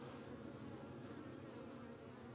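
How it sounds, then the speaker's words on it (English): Honey bees buzzing thickly around a black hive part, a dense continuous drone of many insects close by, with no voices. "the bees always bomb this because it's black"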